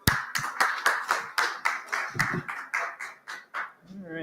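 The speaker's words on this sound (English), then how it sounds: "Big round of applause for Paul," A small audience at the ETHDenver crypto conference claps for a speaker taking the stage: sharp, distinct claps in a quick, even rhythm, fairly close and moderately quiet, thinning out toward the end.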